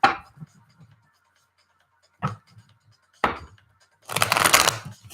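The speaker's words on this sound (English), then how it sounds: "I'm going to put Lily in focus now for the shuffling" Tarot cards being shuffled in close, crisp bursts: three short riffles separated by pauses, then a longer, denser shuffle at the end, with no talk over them.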